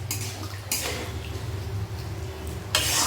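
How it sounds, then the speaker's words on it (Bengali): A spoon stirs shukto, a Bengali vegetable dish, loosened with milk and an equal cup of water in a pot, scraping and clinking steadily with louder knocks at the start and end, no talk. "এবারে সমস্ত কিছুকে খুব ভালো করে আবারও মিশিয়ে নেব।"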